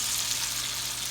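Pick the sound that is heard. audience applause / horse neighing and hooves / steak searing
steak searing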